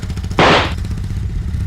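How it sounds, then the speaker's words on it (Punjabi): A Royal Enfield Bullet motorcycle lets out a single sharp, loud backfire bang over the steady thump of its idling engine. "ਕਿਉਂ ਬਈ ਪੈਂਦੇ ਆ ਪਟਾਕੇ? ਬੁਲਟ ਦੇ ਪਟਾਕੇ ਪਾਉਣਾ ਤਾਂ ਫੁਕਰਿਆਂ ਦਾ ਕੰਮ ਹੈ।"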